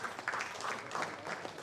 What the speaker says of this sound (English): Please, can we clap for this?